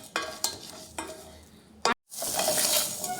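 Small onions (shallots) sizzle in hot oil while a spoon scrapes and stirs the pan with a few sharp knocks, then a loud, steady frying hiss swells up after a brief gap, with no talking.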